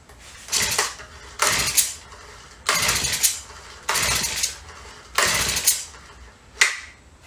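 A Honda mini tiller engine is pull-started again and again, six rhythmic rasping cranking bursts about a second apart, none catching, close and fairly loud.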